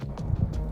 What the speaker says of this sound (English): Warden approaches is for 1 strike and sounds like this.